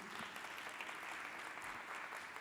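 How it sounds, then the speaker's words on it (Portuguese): An audience at a law panel session applauds a speaker, a soft, even wash of clapping hands heard from a distance and sustained without pause. "Vamos aplaudi-lo, senhoras e senhores."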